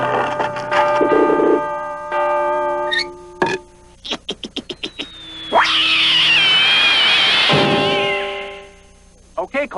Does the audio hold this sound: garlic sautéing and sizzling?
no